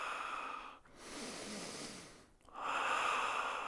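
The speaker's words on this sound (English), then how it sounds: "Deep breaths, using the core." Deep breaths during home yoga practice: a slow inhale, a long exhale and another strong inhale, close and clearly audible with short pauses between them and no talking.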